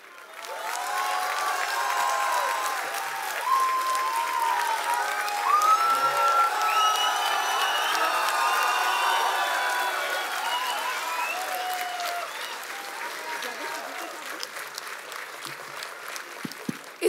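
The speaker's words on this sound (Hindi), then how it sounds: "खुशामदीद कहते हुए भरपूर तालियों के साथ." Audience at a literary event on Urdu in films applauding to welcome guests, sustained dense clapping with scattered whoops and cheers that gradually thins out toward the end.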